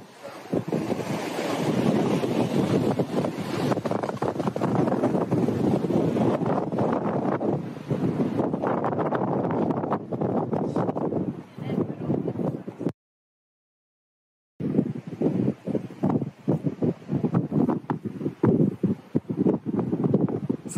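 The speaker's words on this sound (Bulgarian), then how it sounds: "В момента има много силен вятър" Strong wind at the Perito Moreno glacier in Argentine Patagonia, at the foot of the Andes, roars as a loud, steady buffeting against the microphone with gusty bursts, broken by a brief silent gap near the end.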